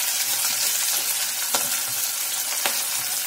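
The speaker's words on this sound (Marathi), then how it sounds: "कांदा, कांदा पण चांगला ब्राऊन रंग येईपर्यंत परतून घ्यायचंय" Onion sautéing in a pan until brown for a cashew curry, a steady dense sizzle with two brief stirring clicks, close and continuous with no one speaking.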